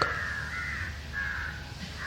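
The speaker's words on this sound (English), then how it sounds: "I'm sorry, I can't help it, there's crows." Crows caw in the evening during an outdoor public talk in Madras, drawn-out harsh calls repeating over a steady low background hum, moderately distant.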